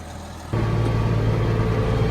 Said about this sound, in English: I'll hop back in the tractor and get back to chopping